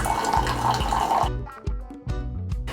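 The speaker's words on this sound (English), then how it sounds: "Flush the lines with hot water." Hot water runs and splashes through a Keurig K-Compact coffee maker as it flushes its lines, a steady rushing stream for the first second or so, then gives way to intermittent gurgles and drips over a low background tone.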